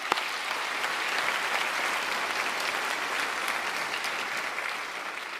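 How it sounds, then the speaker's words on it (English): A college commencement audience applauding the planning committee, giving a sustained, even wash of many hands clapping that is fairly loud throughout and tapers slightly at the end. "Let's give them a round of applause, please."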